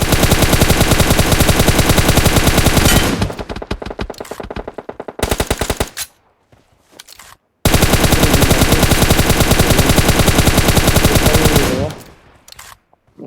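Sustained automatic gunfire in the mobile battle-royale game PUBG Mobile, played on an iPad mini 5: dense, loud bursts of rapid shots, a brief pause with scattered single shots, then another long continuous burst that cuts off abruptly.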